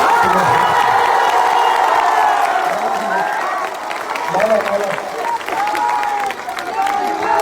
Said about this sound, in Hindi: एक बार इतनी जोर से ताली बजाइए कि मुख्यमंत्री को आज ही पता चल जाए